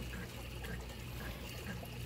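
Water pouring and trickling steadily through a brush filter stage of an aquaponics system holding fish and crawfish, a continuous close wash of flowing liquid with no pauses.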